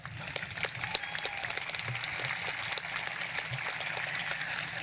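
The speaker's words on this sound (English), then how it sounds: "yes, you can applaud" A crowd at a high school graduation ceremony claps continuously, a thick patter of many hands with sharper individual claps popping out, steady and fairly distant.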